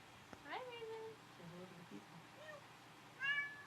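A person imitates a cat's meow: a short rising and falling meow-like call, fairly close and moderately loud, with a second brief meow near the end, surrounded by faint background talk.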